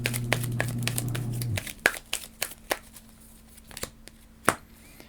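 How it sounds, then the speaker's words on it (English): Cards being shuffled for a solo board game, a run of crisp riffling and tapping clicks that follow a short low hum, close and fairly quiet, with no talking. "let's shuffle this up"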